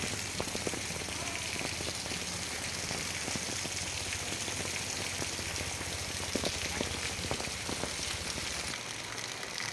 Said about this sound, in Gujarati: ખૂબ જ સારો વરસાદ પડી રહ્યો છે.